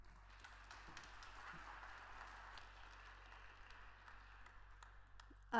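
Applause from an audience at a county public meeting, a faint, steady wash of many hands clapping from a distance, ending in a louder close sound.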